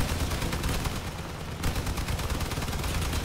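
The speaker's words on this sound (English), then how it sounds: "These MGs destroy the competition." Machine guns fire in the vehicle combat game Crossout as a loud, dense, continuous rattle of rapid shots with a brief dip partway through, no voices.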